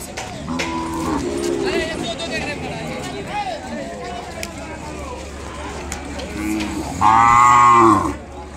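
At a crowded weekly cattle market in Kodada where Ongole bulls are traded, cows give several loud moos close by. A steady murmur of voices and people talking runs underneath.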